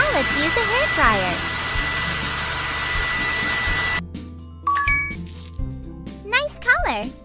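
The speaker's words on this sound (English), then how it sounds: "Now let's use a hairdryer." A cartoon hair dryer in a children's pet salon game blows with a steady whirring hum for about four seconds, then cuts off, followed by chirpy cartoon sound effects and jingles.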